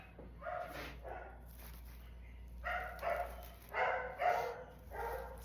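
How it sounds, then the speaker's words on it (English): Several dogs at home bark excitedly in short bursts as a gate alarm signals someone arriving, the yapping coming in clustered volleys, moderately close, over a low steady hum. "There's my hubby, so the dogs are gonna go crazy."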